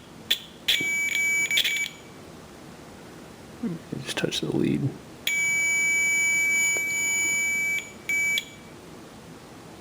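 A multimeter on continuity mode beeps in sharp, steady electronic tones as probes touch points on a 1993 Toyota MR2 speedometer circuit, with several short beeps and one long held tone, and someone speaking in between.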